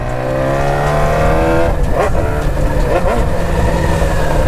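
BMW S1000 motorcycle engine revving, a steady high idle rising in pitch with two sharp throttle blips in the middle, loud and close with no talk.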